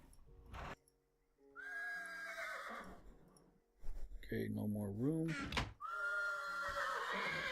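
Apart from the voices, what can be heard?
horses neighing in the video game Minecraft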